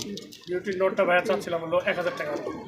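German Bituma pigeons cooing in soft, repeated throaty bursts close by, with someone talking over them throughout at a pigeon market.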